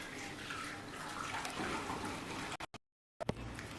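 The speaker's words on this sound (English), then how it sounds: "Take a pot. Add milk and tender coconut mixture." Milk and tender coconut mixture pours into a pot as a steady watery splash and trickle, broken near the end by a brief gap before resuming.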